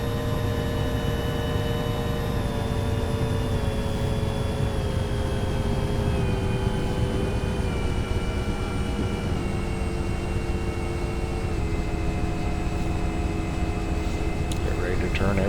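A Nimbus Huey UH-1 model helicopter engine runs steadily at high RPM, a loud continuous whine and hum with tones that slowly sink as the throttle comes down, with a person talking over it.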